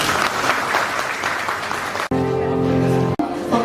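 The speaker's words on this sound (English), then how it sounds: "can we please have a round of applause for ma'am?" An audience at an award ceremony seminar applauds in a loud, dense burst of clapping lasting about two seconds, then a voice speaks over an amplified hum.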